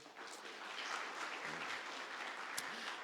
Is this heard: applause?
yes